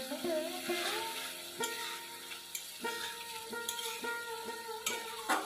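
Mustard-paste puti fish curry being stirred in a pan, with soft scraping strokes and occasional light knocks of a spoon over a faint sizzle, close and fairly quiet.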